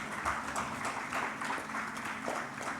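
Applause from an audience at an annual wellness foundation summit, steady crowd clapping at moderate distance, continuous throughout without pause.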